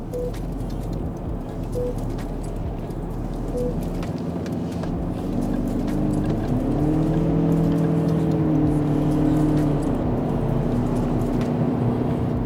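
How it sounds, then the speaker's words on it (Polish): A Lexus RX 350h hybrid running on LPG accelerates up a slip road onto a motorway, its steady engine and road drone rising in pitch as the continuously variable transmission holds revs and speed builds, heard from inside the cabin. "Sprawdzimy na krótkim odcinku, jak ten samochód się zbiera. Zobaczymy przyspieszanie."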